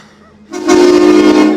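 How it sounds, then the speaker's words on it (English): Train going past during a game, a loud broad rumbling roar with a sustained horn-like tone that swells in after a quiet start and holds steady to the end. "There's a train."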